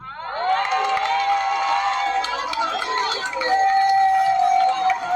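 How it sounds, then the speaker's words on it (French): A crowd at a political gathering in Gabon rises to applaud and cheer, a dense, sustained roar of clapping and shouting that holds steady throughout with voices blended into it. "Je vous demande tous, comme un seul homme, de vous lever et d'applaudir Bombé."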